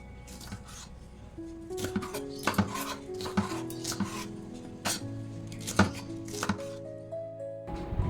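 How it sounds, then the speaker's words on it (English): Knife chopping capsicum into small cubes on a board, a series of sharp irregular close taps and thuds spaced across the clip, with no talking. "We have to cut capsicum into small cubes like this, how I'm cutting"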